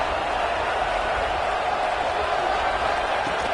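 Stadium crowd noise in a college football video game during an Oregon versus Nebraska matchup, a dense, continuous roar at steady loudness filling the whole stretch.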